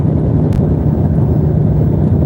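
Heavy road traffic roars steadily while driving, as semi-trucks pass close by in the next lane, a constant loud rumble with wind buffeting throughout and no talking.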